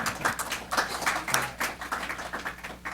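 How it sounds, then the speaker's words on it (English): Audience applause at a talk on Pakistan and its military, a crowd of hands clapping in uneven bursts that swell and ease over a few seconds, with no voices over it. "You're allowed to applaud."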